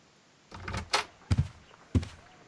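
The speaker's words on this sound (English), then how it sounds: "No, I just heard the front door." A front door opens in the Crimes and Punishments video game, giving a few close wooden thunks and a latch clack spread over about a second and a half in a quiet room.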